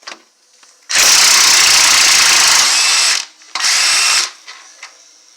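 A power tool undoes the steering gear box bolts on a Jeep Cherokee XJ, with two loud close rattling bursts, the first long and the second shorter, and light clicks of handling before and after.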